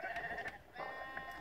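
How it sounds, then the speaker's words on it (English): A sheep in the Minecraft video game bleats twice, faint wavering calls over a low background hum, with no one speaking. "the sheep, I think."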